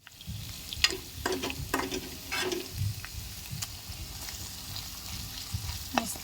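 Chicken with masala frying in oily fat in a kadhai makes a close sizzle, with irregular spoon scrapes and clinks against the metal as it is stirred, and no talk over it.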